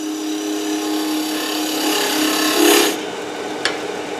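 A hand tool's bottom wing drawn across wood as a scraper makes a steady, close rasping scrape that swells briefly near the end, stops, then gives one short sharp scratch.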